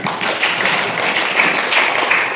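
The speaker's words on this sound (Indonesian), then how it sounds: "tepuk tangan dulu anak-anak" Schoolchildren in a mathematics classroom applaud together, a steady dense patter of many hands clapping close by for over two seconds without pause.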